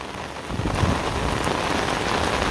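Steady rain falls on surfaces in an outdoor setting, a dense continuous patter that stays even throughout with no talking.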